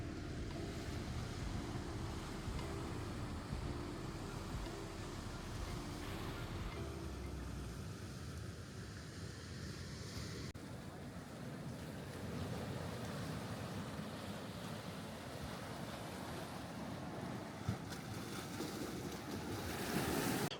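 Ocean waves surge and wash steadily over rocks on the north coast of Ireland as the tide comes in fast, a continuous loud roar of surf with wind buffeting the microphone throughout.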